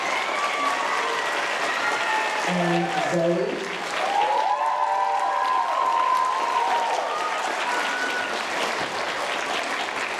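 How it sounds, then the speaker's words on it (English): Audience applause for a student performer at a winter school band and chorus showcase, a sustained wash of clapping lasting the whole stretch, with a brief spoken voice over it near the middle. "Let's give about Aiden, a round of applause for Aiden."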